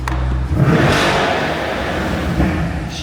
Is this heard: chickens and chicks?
no